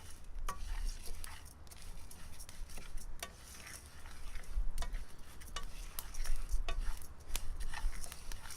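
Barley roasting in a pan for an ancient Roman polenta, with steady scraping and stirring and a soft, continuous sizzle, close and moderately loud with no talking.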